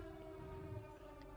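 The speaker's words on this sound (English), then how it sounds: "Is that a battle horn?" An enormous battle horn blares as one steady, droning blast resembling a warning siren, loud and sustained throughout with a low rumble beneath.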